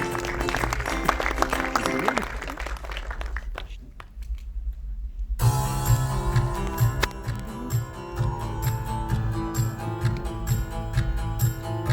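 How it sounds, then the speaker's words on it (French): An audience at an agricultural awards ceremony in Meuse claps for the CUMA Centre-Meuse cooperative winners, applause mixed with music that drops out briefly, then a louder musical passage carrying on with clapping beneath. "on les applaudit bien fort"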